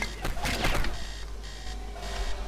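Alarm sounding in the 2006 video game Yakuza Revenge: a steady electronic beeping tone repeats through the whole clip at moderate loudness, with game noise around it.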